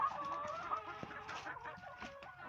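Chickens clucking softly and steadily at close range while they peck at a sack of lettuce tossed on the ground, with short scattered calls overlapping.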